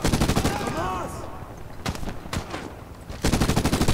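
Bursts of rapid automatic gunfire in the Medal of Honor 2010 video game, loud sustained volleys at the start and end with separate sharp single shots between, a voice briefly heard.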